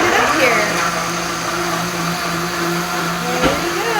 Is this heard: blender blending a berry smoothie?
yes